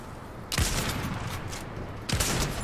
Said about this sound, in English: Just practice shots in the lobby.